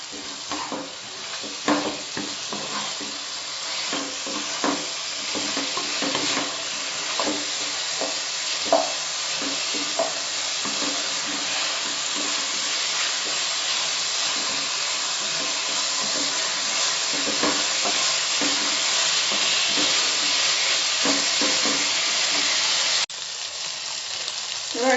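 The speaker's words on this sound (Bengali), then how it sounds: "এবার মশলাটা কষা হয়ে গেছে চিকেনের সঙ্গে।" Chicken pieces fried in ghee stir-frying with spice masala in a pan for Mughlai chicken nihari, giving a steady close sizzle with repeated scraping and stirring strokes throughout, no talking.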